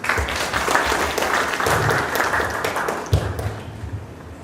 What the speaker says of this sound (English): please welcome Mr. Doron Gidoni